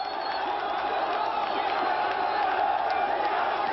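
A Palestinian crowd shouts hostile chants against Arafat, a dense, steady roar of many raised voices close by, sustained without pause throughout.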